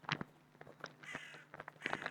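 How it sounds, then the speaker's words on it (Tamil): A crow in a survival horror video game caws several times in quick, harsh calls, clear and fairly close, with short gaps between the cries against a quiet background. "கத்துது கருமம் காக்கா"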